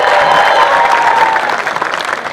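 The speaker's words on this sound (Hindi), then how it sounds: "जोरदार तालियां गाइस कम ऑन एवरीबॉडी" Loud, dense applause from a large audience at a stage event at Noida Shilpotsav, a steady wash of clapping that tapers slightly toward the end.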